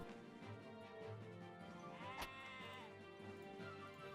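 A sheep bleats in the Stonehearth video game, a wavering, close call rising over a busy game soundscape with music and ambient noise underneath.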